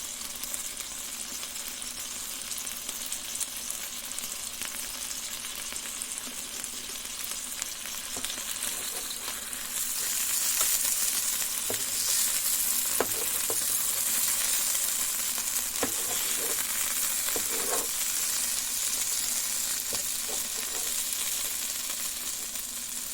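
Clarkson's Farm bacon and sausages frying in olive oil, a steady dense sizzle heard close and alone, swelling a little louder about halfway through with occasional faint pops and clicks.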